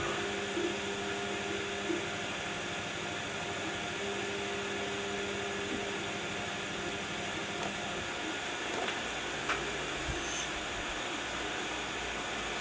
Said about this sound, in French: Petit test de découpe sur bois, donc on est sur du bois tendre de 2 mm.